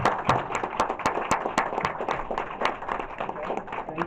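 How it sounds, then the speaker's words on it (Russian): A small audience at a company event claps steadily, a fairly quiet wash of overlapping hand claps with a few sharper nearby claps standing out, continuing evenly throughout. "Аплодисменты вам."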